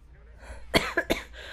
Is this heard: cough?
yes